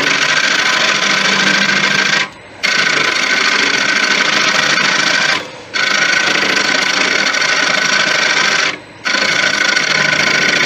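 A gouge back-hollows a deep Irish white oak bowl spinning on a wood lathe, giving a loud, continuous rasping scrape that breaks off briefly three times before cutting again.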